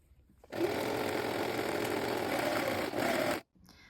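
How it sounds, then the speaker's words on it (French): A sewing machine stitches a binding onto a fabric ruffle, sewing a close holding seam near the edge: a steady, loud whir running for about three seconds, then cutting off abruptly, with no talking. "maintenir le galon au volant en faisant donc une piqûre de maintien à 2-3 mm du bord"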